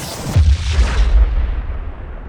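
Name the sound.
explosion sound effect in an audio story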